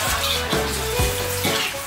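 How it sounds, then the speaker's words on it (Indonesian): Water poured into a hot pan of sizzling stir-fried beef tripe with garlic, shallots and chili, a loud steady hiss and bubbling with a couple of spatula scrapes and no talk. "Siram air supaya berkuah."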